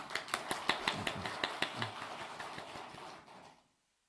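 Scattered applause from a church congregation, sharp claps in an uneven rhythm that thins out and stops abruptly near the end.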